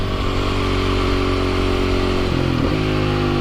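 A Husqvarna SMR 510 dirt bike engine idles with a steady, gruff rumble, then blips briefly higher in a quick throttle rev before settling back, loud and close.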